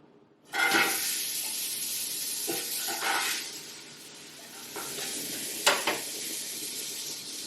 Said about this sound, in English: the onions are cooking, and they're going to have to get almost like caramelized